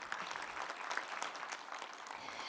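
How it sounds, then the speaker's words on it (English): Scattered audience clapping at a student support event, fairly faint and thin, with individual claps standing out over a soft room wash for a couple of seconds. "Yeah, clap for that."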